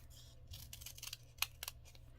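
Scissors snipping paper folded for a snowflake, a quick run of small, close, dry cuts at low volume, with no talking.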